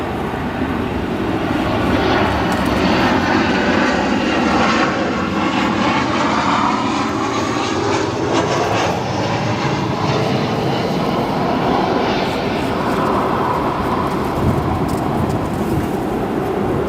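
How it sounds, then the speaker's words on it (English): SkyWest Airlines jet arriving at O'Hare from Tulsa, a loud sustained engine roar that swells and holds as the airliner passes overhead on approach. "SkyWest Airlines 4672 coming in from Tulsa"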